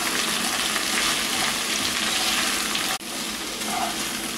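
Okra, or ladies finger, sautéing in a pan gives off a steady, dense sizzle and frying crackle throughout, with a brief dip near the end as if the pan is stirred or moved.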